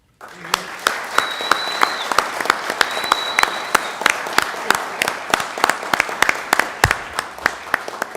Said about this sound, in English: Let's send them off the proper way with a big round of applause.